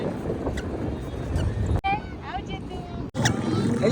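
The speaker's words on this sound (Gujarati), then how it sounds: "ટાઢો પવન આવે છે" Wind gusts buffet the microphone in a rough, steady roar, while people talk and call out over it.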